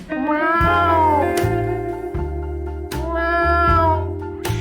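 A cat meows several times in drawn-out, rising and falling cries, loud and close over a steady low hum and rhythmic background pulses, with no talking.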